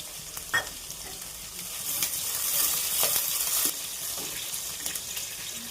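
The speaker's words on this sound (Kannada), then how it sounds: "ಇದು ಒಗ್ಗರಣೆ ಹಾಕ್ತಾ ಇರಲಿ" Crackling sizzle of mustard seeds popping in a spoonful of hot oil for a tempering, with scattered sharp spits and a spoon stirring now and then, fairly quiet and close.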